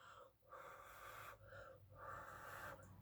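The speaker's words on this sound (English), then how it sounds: "So you want to aim your breath down and lightly blow." Soft breath blown lightly down onto wet acrylic pour paint, three long airy gusts separated by brief pauses, close and quiet with no talking.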